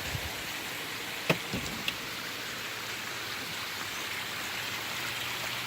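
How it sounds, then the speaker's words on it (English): Steady rain falling outdoors in flooded mountain country, a continuous soft hiss of water with a couple of brief sharp drips or knocks near the start, no voices. "And it's raining."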